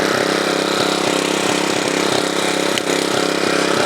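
A tractor fitted with a center rotary tiller idles loud and close, a dense, steady engine drone with a regular pulsing beat throughout and no talking.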